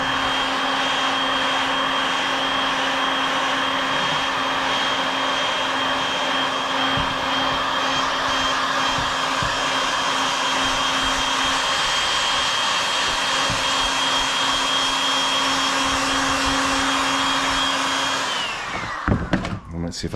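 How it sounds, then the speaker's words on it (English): A heat gun blows steadily on the back of a bumper vent on a 2018 Dodge Charger Hellcat during repair, giving a continuous loud whirring hiss with a fixed whine that cuts off near the end. "All I'm doing is putting heat to the back side of the vent."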